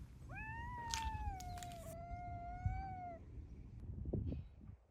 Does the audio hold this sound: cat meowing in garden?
yes